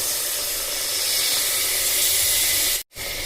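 Coconut milk, freshly squeezed from ground coconut, pours into a hot pot for mutton biryani, giving a steady loud hiss and sizzle of steam that runs without pause, then cuts off briefly near the end.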